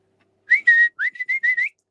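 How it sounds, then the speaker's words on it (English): A person whistles to a pet dog named Cleo with a quick run of short, bright notes, some rising and some held, loud and close with nothing else heard. "I'm whistling at the dog and everything and she's not hearing me."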